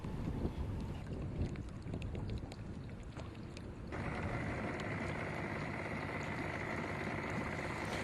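Outdoor boat noise on a Minnesota lake with wind buffeting the microphone, a few mechanical clicks and knocks, then a steadier motor-like hum.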